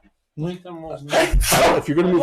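A single sharp sneeze bursts out in the middle of a tabletop role-playing game session, loud and close, with people talking before and after it.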